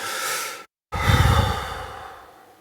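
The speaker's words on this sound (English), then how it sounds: "I find myself taking a few deep breaths." Deep breaths close to a microphone, one long airy exhale, a brief silence, then a second fuller breath that swells and slowly fades, with no speech.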